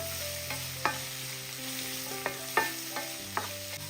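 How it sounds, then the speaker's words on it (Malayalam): Onions fry with cumin and turmeric in a pan over medium flame, a quiet steady sizzle broken by repeated close spoon clinks and scrapes as they are stirred. "മീഡിയം ഫ്ലെയിമിലിട്ടിട്ട് ഇതൊന്ന് ഇളക്കി കൊടുക്കുക ഈ സവാള എല്ലാം ഒന്ന് വാടി വരട്ടെ"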